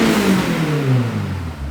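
A Honda S2000 engine, newly fitted with a surge tank and having fuel pressure trouble, revs up and settles back, its pitch rising and falling through one short, loud, close burst.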